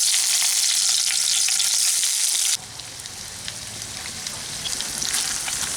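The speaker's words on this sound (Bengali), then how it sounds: "এখন আমি এই পনিরগুলোকে হালকা বাদামি করে ভেজে নেব।" Paneer pieces fry in refined oil in a kadai with a bright, hissing sizzle up close. Partway through the sizzle drops to a softer crackle with light stirring. No one is talking.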